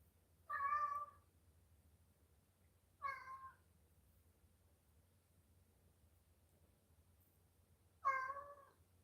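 A house cat meows three times, each a drawn-out call spaced seconds apart, close and clear over a quiet background hum.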